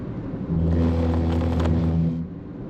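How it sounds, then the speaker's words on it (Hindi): A car rolls onto the rumble strips on the shoulder of the Ganga Expressway in Uttar Pradesh, the cabin filling with a loud, steady droning buzz that starts abruptly, holds for about two seconds, then falls back to quieter road noise. "जैसे ही आपकी गाड़ी इनके ऊपर आएगी तो आपकी गाड़ी आवाज करने लग जाएगी,"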